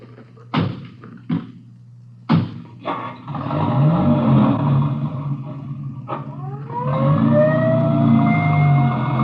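An ambulance siren in an old Dragnet radio drama wails and rises after a few sharp door thumps, then holds a steady wavering tone under engine rumble, with no talk over it.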